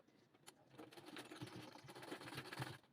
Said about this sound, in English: So I'm now going to sew here.